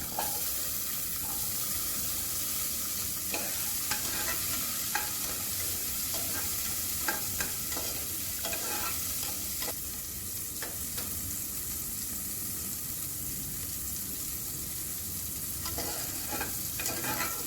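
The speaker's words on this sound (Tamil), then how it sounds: "தட்டி வச்ச ரெண்டு பூண்டு போட்டு அது ப்ரௌனிஷாக கொஞ்சம் கலர் சேஞ்ச் ஆகட்டும் சேஞ்ச் ஆன பிறகு நம்ம உரித்து வச்சுருக்க சின்ன வெங்காயம் பற்றியும் ஆட் பண்ணி வதக்கிக்கலாம்" Crushed garlic cloves and peeled shallots sautéing in a pan for paruppu soru, a continuous dense sizzle with frequent light scrapes and taps from stirring, close and steady for a long stretch.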